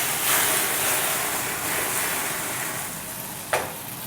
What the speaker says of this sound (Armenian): Հիմա դրել եմ մի քիչ յուղի մեջը տապակվի